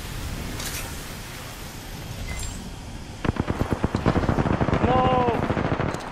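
Apex Legends gunfire: a muffled stretch of distant shooting followed by a loud, rapid burst of automatic shots, with a player talking over the action.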